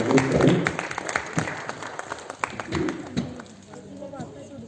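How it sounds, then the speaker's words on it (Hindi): Applause greets the winner of the 5,100-rupee Shanti Gaya Smriti Samman at an award ceremony, a dense burst of clapping at first that thins out, with voices talking through it. "तो क्या तालियों की गड़गड़ाहट से स्वागत करें।"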